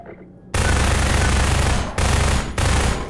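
Sustained automatic gunfire in Half-Life 2, loud and close, starting abruptly after a quiet moment and continuing in three bursts separated by short gaps.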